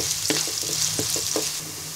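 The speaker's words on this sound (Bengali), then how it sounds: "পেঁয়াজটাকে ব্রাউন কালার করে ভেজে নিব।" Chopped onions browning in hot soybean oil in a kadai make a continuous, close sizzle, broken by several short scraping knocks from stirring, with no voices.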